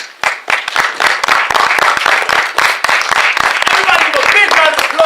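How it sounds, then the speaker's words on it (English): An audience applauds after a poem reading, dense close hand clapping that runs steadily throughout, with a voice rising over it near the end. "Everybody give a big round of applause."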